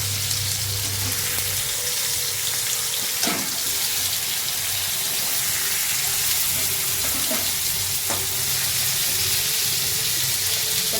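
Paneer pieces frying in hot oil for a masala paneer dish give a steady broadband sizzle, with a few brief utensil clicks and scrapes scattered through it and no talking.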